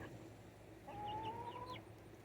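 A single chicken gives a drawn-out clucking call over a faint, steady outdoor background; no one speaks.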